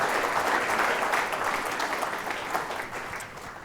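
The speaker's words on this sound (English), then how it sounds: "please, round of applause for Audrey, Paul, Leighton and John." A conference audience claps in a steady, dense round of applause that fades only slightly over a few seconds, with no voices standing out.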